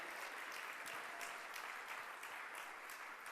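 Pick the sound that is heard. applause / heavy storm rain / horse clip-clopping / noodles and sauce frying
applause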